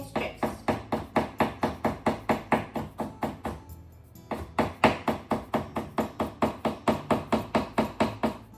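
A knife chops a cucumber into thin strips on a board, a fast even run of sharp close taps that stops briefly midway and then resumes at the same pace.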